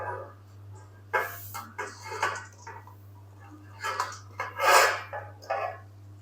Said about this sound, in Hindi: गाजरों को मैंने कढ़ाई के अंदर ऐड कर दिया है